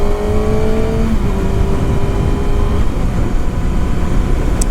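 A Kawasaki Ninja ZX-6R sportbike accelerating hard off the line on a public road, engine note climbing through rising gears with a shift near the start, loud and close over steady wind roar.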